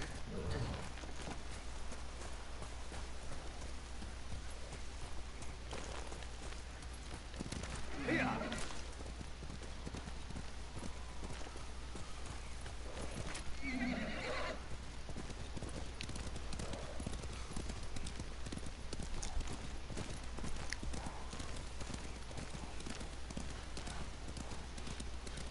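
Horse hooves clip-clop at a steady gallop through the Ghost of Tsushima video game, with a couple of brief whinnies partway through, all under continuous talking and game ambience.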